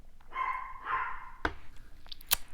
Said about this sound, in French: Et Nessie aboie